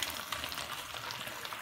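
Beef fillets fry in a pan as they release their water, giving a steady, close crackling sizzle with fine bubbling pops throughout.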